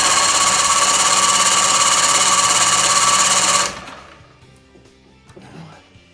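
A 20 hp Mercury outboard motor with a rebuilt carburetor runs at a loud, steady high-pitched buzz, then abruptly dies away, leaving only faint knocks and handling noises.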